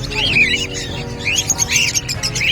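Pet birds at the Bocaue pet market chirp in quick, bright bursts close by, over a low murmur of background noise.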